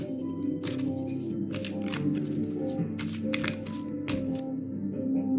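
A deck of cards riffled and bridged in several quick bursts, crisp papery flutters repeating over a low steady background hum.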